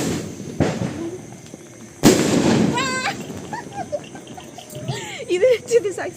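Diwali firecrackers go off outdoors: a sharp pop followed by a louder bang, then crackling and high whistling tones, while people talk and react nearby throughout.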